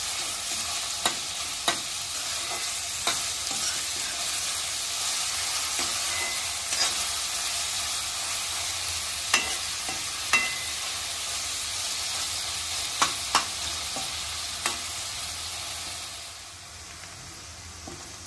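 Onions fry with a constant bright sizzle and hiss in a pan, cooking until soft, with a spoon stirring and tapping now and then.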